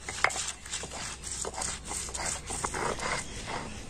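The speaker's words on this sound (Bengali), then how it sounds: "তো দেখুন সম্পূর্ণ আমি পালং শাকের পাতাটা কিন্তু এইভাবে বেটে নিয়েছি।" Spinach leaves ground into a coarse paste, giving soft irregular rubbing and scraping strokes, fairly quiet and steady over a few seconds with small knocks.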